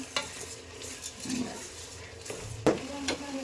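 Ground masala frying in oil in a pan for cooker pulao, with stirring scrapes and soft sizzling, a louder clatter of the spoon against the pan near the end; no talk.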